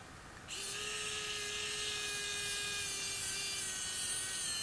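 A power drill drives screws into a bag's end cap, whirring at a steady, continuous pitch for several seconds after a brief quiet start, close and alone without talk.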